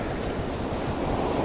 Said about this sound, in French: Oui, c'est une belle vague là.